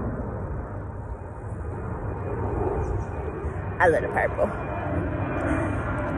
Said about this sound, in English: Loud ass plane.